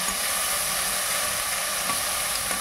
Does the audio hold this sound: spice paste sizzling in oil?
yes